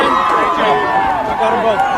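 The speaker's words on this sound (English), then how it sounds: "You can hear the crowd." Crowd cheering in the stands at a high school football game, a dense roar of voices and shouts heard at a distance, steady for two seconds with no clear break.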